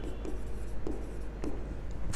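A teacher writes on a board, quick scratchy strokes falling in short separate bursts against a quiet room with low background hum.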